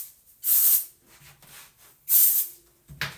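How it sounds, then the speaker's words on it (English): Hair texture spray misted at the roots of lifted hair: two close, loud hissing bursts of about a third of a second each, separated by quiet handling, with a short third spurt at the end. "you hold up your hair and you just spray at the root of your"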